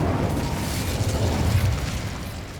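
A continuous, loud whooshing roar from an Incendio fire spell in the video game Hogwarts Legacy, full and rumbling with a strong low end, easing off slightly toward the end. No one speaks.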